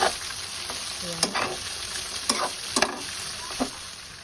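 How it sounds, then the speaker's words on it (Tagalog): Fried tofu and chicken sauté in a pan, a steady sizzle broken by several sharp stirring scrapes and clacks of a utensil against the pan, with no talking. "Tapos, isunod natin gisahin ang ating fried tofu."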